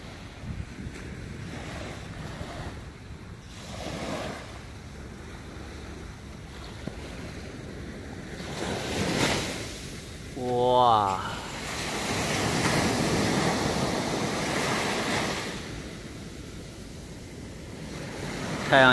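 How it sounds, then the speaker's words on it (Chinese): Ocean waves roll and break on a sandy beach in Haikou, Hainan, in the morning, a broad steady surf wash swelling and receding, with gusty wind buffeting the microphone and a voice briefly exclaiming. "近距离来看一下这个海浪。"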